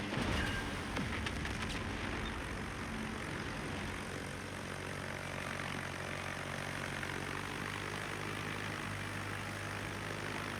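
Propeller engine drone of F-8F Bearcat fighter planes in the World of Warships game, a steady continuous buzzing hum holding at even loudness throughout, with no talking.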